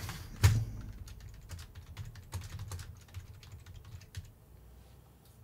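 Rapid typing on a computer keyboard, a dense run of light clicks and taps with one louder thump near the start, close and steady with no talking.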